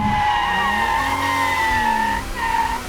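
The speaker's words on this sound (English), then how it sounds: "so you feel the car sliding" A 2020 Toyota GR Supra's tires squeal continuously as it slides tail out, the engine tone wavering underneath, loud and close for the whole stretch.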